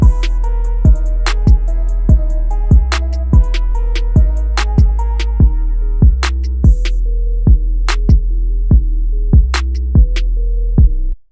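A trap beat plays a verse section with a punchy booming kick and bass on a steady rhythm, crisp hi-hats, and a melodic hook line over the top, loud and clean with no voices.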